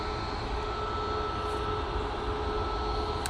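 Steady, loud broadband engine rumble and whine of a Ryanair jet at Manchester Airport, continuous and close with no other sounds over it.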